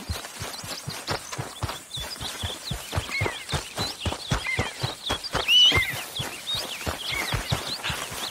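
Steady clip-clop of horse hooves at a walking pace in the video game Red Dead Redemption 2, close and regular, with faint chirping birds in the background and an occasional snort.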